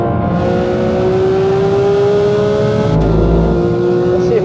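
A Porsche 911 GT3 RS Manthey (992) powers out of a corner on track, its engine revving loud and close in a rising high-pitched wail, with a brief gear change near the end.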